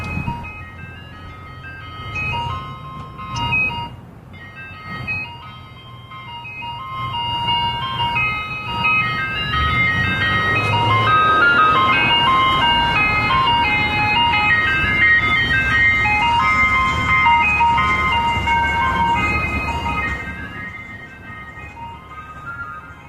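An ice cream truck passes outside a window, its tinkling chime melody ringing out steadily and growing louder toward the middle before fading, with engine rumble underneath and brief voices early on.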